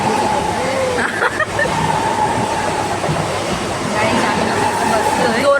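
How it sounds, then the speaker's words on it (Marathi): A train rolls past close by, a loud steady rumble with metallic clatter and a high squeal, while people talk in the background. "ट्रेन गेली"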